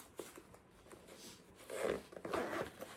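A zipper slides open along the back of a crochet supply case holding needles, scissors and embroidery threads, giving two close, scratchy rasping pulls in the second half, with quiet handling before.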